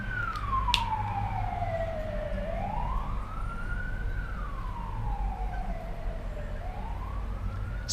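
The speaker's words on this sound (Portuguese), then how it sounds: "espere a ambulância passar" Ambulance siren passing outside a classroom, a wailing tone sweeping up and down in long slow cycles, moderately loud over low rumbling traffic.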